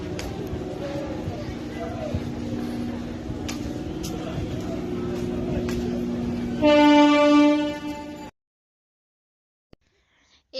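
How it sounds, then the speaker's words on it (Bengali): A train moves off from a station platform with a steady rumble and rolling rattle, and near the end a loud horn sounds for a couple of seconds before cutting to silence. "এইমাত্র একটা ট্রেন বেরিয়ে গেল"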